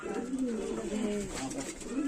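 Low, rolling coos from pigeons kept for sale repeat steadily, fairly close, with faint murmuring around them.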